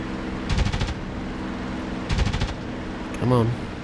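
P-51 Mustang machine guns firing in the DCS combat flight simulator: two short, rapid bursts about a second and a half apart over a steady engine drone, followed by a brief voice.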